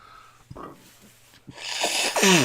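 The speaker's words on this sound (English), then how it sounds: "the fat man's blowing his nose on the camera again" A couple of sharp nasal bursts followed by a loud, wet honking blow through the nose, close by.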